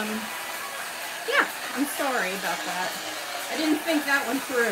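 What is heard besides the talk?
hair dryer running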